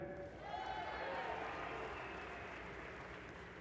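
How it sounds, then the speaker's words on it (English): A crowd at an indoor archery World Series final applauds, a moderate steady patter of clapping that rises slightly and then eases off, with a faint voice underneath. "Warm applause for that first hour of this set."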